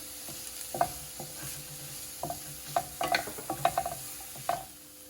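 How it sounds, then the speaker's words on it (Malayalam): Onion and capsicum sauté in a pan with a gentle sizzle, broken by irregular clinks and scrapes of a spoon stirring the vegetables. "കുറച്ച് സവാള കട്ട് ചെയ്തത്, കുറച്ച് ക്യാപ്സിക്കം കട്ട് ചെയ്തതും ചേർത്ത് നന്നായിട്ടൊന്ന് വഴറ്റിയെടുക്കാം."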